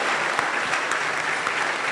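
Audience in a large university great hall claps at a campus entrepreneurship event, a dense, steady wash of applause filling the room for about two seconds with no voices over it.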